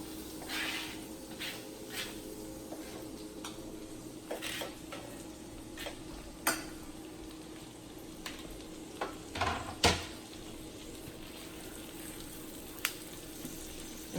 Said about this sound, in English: now we are adding the onion